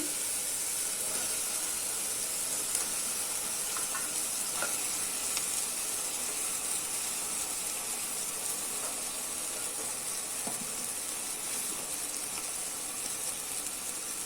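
Half a kilo of washed mutton goes into a pan of softened tomato masala for a Salem-style mutton gravy, producing a loud, steady sizzle and hiss of frying with faint stirring scrapes throughout and no talking.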